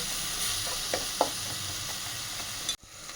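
Tomatoes sizzle in oil over a medium flame, a bright continuous frying hiss with a few soft stirring taps, close and steady before cutting off abruptly near the end, with no one speaking.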